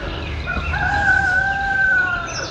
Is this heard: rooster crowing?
yes